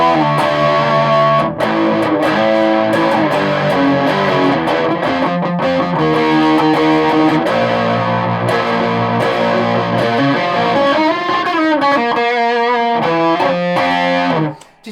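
Electric guitar played through the drive channel of a Peavey ValveKing VK112 tube combo on the bridge pickup, loud and continuous with heavy distortion. Sustained chords and riffs ring out alone until they cut off abruptly at the end.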